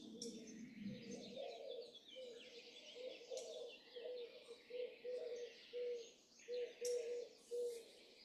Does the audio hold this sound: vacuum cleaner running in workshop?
no